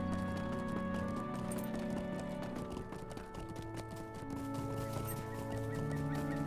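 Horse hoofbeats from a mount in the online game LOTRO, a steady galloping clip-clop running continuously beneath game music and ambient tones, even and close throughout.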